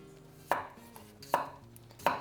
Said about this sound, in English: We've just got a couple of bigger ones here, which I'm going to cut in half so that they all cook evenly.